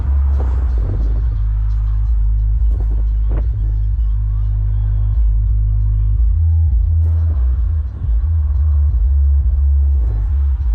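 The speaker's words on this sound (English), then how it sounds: "what we got is a Mercedes GLE 2019 installed with a double Phoenix Gold subwoofer" Deep, heavy bass from twin Phoenix Gold Z212ABV2 subwoofers installed in a 2019 Mercedes GLE, a steady loud low-end rumble and throb that runs continuously throughout, with no talking.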